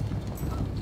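Mounted conquistador cavalry in the Medieval II Total War battle game clop along in a quick patter of hooves, moderately close, with faint battle noise underneath.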